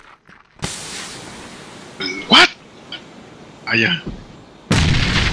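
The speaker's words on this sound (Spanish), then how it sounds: "Tiro granada." Loud grenade blast in PUBG arrives near the end as a sudden broadband boom, preceded by scattered gunshots and brief shouted voices over quiet game ambience.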